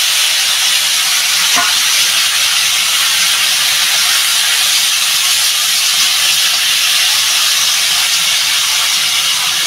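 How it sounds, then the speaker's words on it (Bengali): Sliced cucumber dropped into a hot pan tempered with radhuni seeds, giving a loud, continuous broad hiss of frying that holds steady throughout, with a faint knock near the start and no voices. "আমি এবার শসাটা ঢেলে দেবো।"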